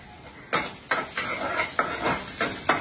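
Onions fry in a pan on a gas stove at home, a loud close sizzle with repeated scraping stirs of a spoon roughly every half second and no talking.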